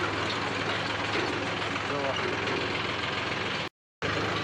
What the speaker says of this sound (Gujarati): આપણે સાઈડમાં રાખી દઈએ ટ્રેક્ટર